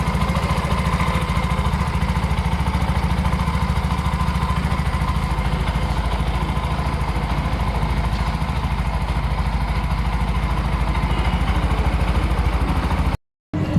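A new 2025 Bajaj RE three-wheeler auto rickshaw with an EFI BS-6 engine runs at a steady, close putter. The even idle holds almost the entire time before cutting out briefly near the end.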